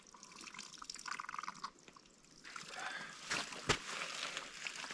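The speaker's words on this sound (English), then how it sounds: "Now this fountain is running, unlike the other one. It's got some good cold mountain water, this one." An outdoor fountain running with cold mountain water gives a splashing, dripping trickle, close and fairly faint, with a louder splash burst near the end and no speech.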